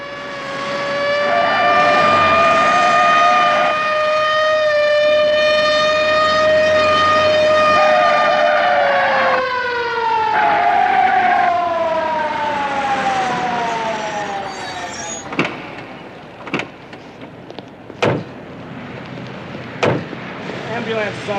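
A loud wailing siren rises and falls in long sweeping tones, then cuts off into sharp separate knocks and thuds; people talk faintly beneath it.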